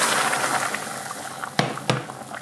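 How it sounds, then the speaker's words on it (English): Hot broth poured onto rice roasted in oil with shallot and garlic for a vegan risotto: a hissing, bubbling sizzle that fades, then two short sharp splashes, close and without speech. "In comes the broth."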